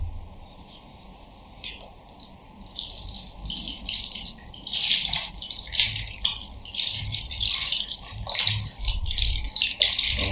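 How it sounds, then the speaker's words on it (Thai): Water splashes and trickles into a cutting-board basin in uneven bursts, about 1.5 liters poured, with rattling and clinking mixed in, fairly close and moderately loud, no voices. "เดี๋ยวผมจะลองเทน้ำล้างให้ดูนะครับ"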